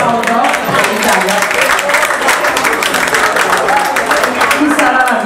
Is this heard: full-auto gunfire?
no